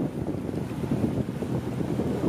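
Steady wind gusts buffet the microphone aboard a Beneteau Oceanis 38.1 sailing yacht cruising upwind off Palavas in the Mediterranean, a continuous low roar with faint water wash and no voices.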